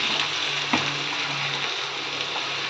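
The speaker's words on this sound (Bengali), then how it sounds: "ভালো করে এখন এই মশলাটা কষিয়ে নেব আলুর মধ্যে" Peanut and spice paste with turmeric frying in oil for a new-potato curry, a steady close sizzle throughout with a brief stirring clack near the start.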